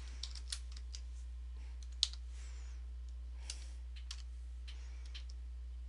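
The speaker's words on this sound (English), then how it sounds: "I'm entering the password now on the technician computer." Sparse, light keystrokes on a computer keyboard as a password is entered for a Windows 8.1 remote assistance session, quiet clicks scattered irregularly over a low hum, one sharper tap standing out.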